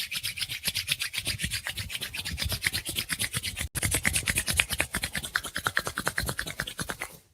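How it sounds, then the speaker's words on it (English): Palms rub briskly together in a quiet seated practice, a steady dense rasping swish with rapid back-and-forth strokes, close and alone, with a brief pause midway. "Let's take the palms, give them a nice little rub."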